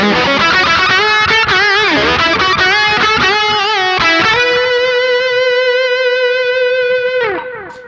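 Electric guitar playing a high-gain lead through delay, reverb and a booster pedal: a fast, thick distorted run settles into a long sustained note that rings out and then fades near the end, with no talking.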